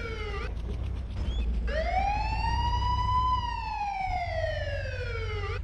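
Several emergency vehicle sirens in a video game overlap and cut in and out, then one long wailing tone swells and slowly falls over a steady low rumble.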